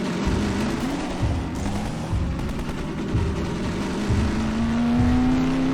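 A car engine drives and revs in the video game Half-Life 2 Episode 2, its pitch climbing steadily as it accelerates, with sharp impacts and gunfire-like cracks over a loud, constant game din.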